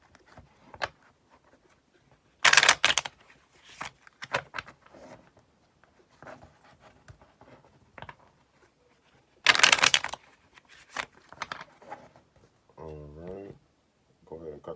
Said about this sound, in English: So let's finish shuffling.